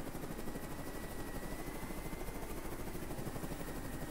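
A helicopter in the video game Carrier Command 2 drones with a steady, rapid rotor chop and engine hum, held at an even, quiet level for the whole stretch with no talking over it.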